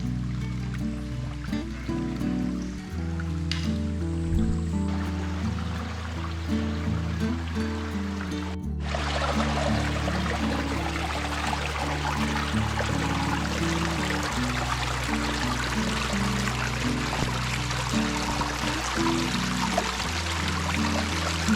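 Clear water flows through a quiet creek at Pinevale Creek, a soft steady stream at first that swells into a fuller, brighter rushing wash partway through and holds to the end.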